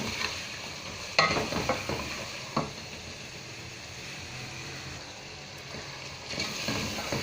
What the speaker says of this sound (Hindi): कीमो असांजो भुजे पियो, बाहि जेका आहे तकरीबन मीडियम आहे।